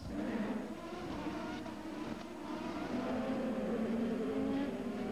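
Race cars roar off the start of the 2004 Monterrey Grand Prix in Mexico, a dense, sustained engine drone with rising pitch lines from several cars at once, heard from a distance.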